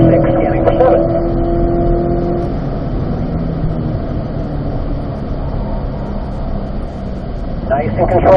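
A race car engine drones loudly and continuously from inside the car on a track, shifting through third and fourth gear, with an instructor speaking over it.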